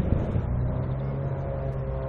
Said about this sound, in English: there's a light aircraft behind it. I can hear it revving up.